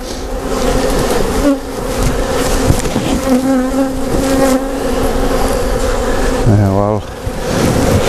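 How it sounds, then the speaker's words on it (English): A dense swarm of bees drones inside a straw skep, a loud continuous buzz with a few individual insects whining past the microphone close up, and a brief spoken word near the start. "there's a lot of bees in here."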